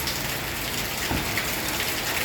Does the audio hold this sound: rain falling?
yes